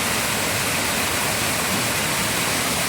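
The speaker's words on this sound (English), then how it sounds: "And there is a giant rain shower in the middle." A giant rain shower runs in the middle of the enclave thermal spa aboard the Sun Princess cruise ship, giving a steady, dense broadband hiss of falling water with no talk over it.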